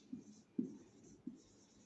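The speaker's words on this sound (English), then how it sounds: "So let me write out the formula for that." A pen or chalk strokes out a formula during a chemistry lecture on solutions, with three short scratching bursts against a quiet room.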